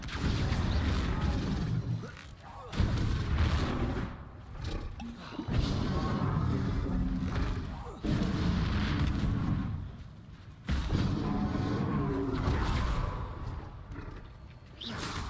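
Spell explosions in Hogwarts Legacy, including the Confringo fire spell, come as a series of heavy booming blasts with rumbling roars, each lasting a couple of seconds and separated by brief lulls, loud and near.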